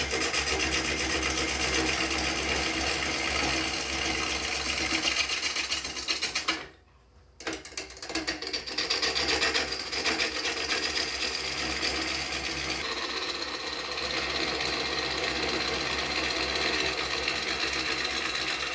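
Bowl gouge roughing the bottom of a wood bowl blank spinning on a lathe: a steady, continuous scraping and rubbing hiss with a mechanical whir, briefly cutting out mid-way before resuming at full loudness.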